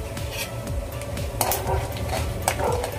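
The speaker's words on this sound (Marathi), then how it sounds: "जिरं फुललं त्यामध्ये मी आता खडे मसाले घालते।" Whole spices go into hot oil with cumin over a low flame, giving soft clinks of a pot and utensil over a faint, low sizzle, with a few sharper taps.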